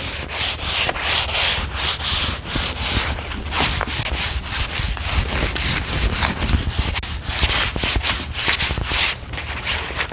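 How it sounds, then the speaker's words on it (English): A sand block rubbed by hand across a wooden staircase during renovation, giving steady, rapid back-and-forth scratchy strokes that run close and loud without pause. "I'm just going to take this and I'm just going to sand just roughly"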